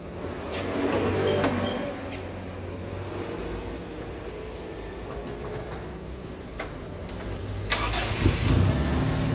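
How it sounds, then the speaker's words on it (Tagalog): A car engine cold-starts and settles into a steady idle, a low continuous rumble heard at moderate distance with faint birds in the background. "cold start yan"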